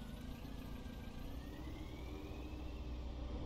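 A vehicle engine in the game Contraband Police idles and runs steadily at a low, constant rumble, a continuous mechanical drone with no voices over it.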